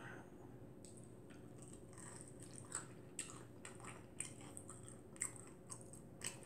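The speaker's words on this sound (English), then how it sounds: "The onion rings are good. They're nice and crunchy." Crunchy onion rings are chewed close to the microphone, giving a series of soft crackling bites and munches spaced irregularly over a quiet background hum.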